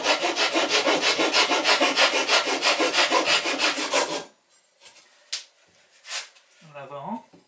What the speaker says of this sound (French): On va scier l'étrave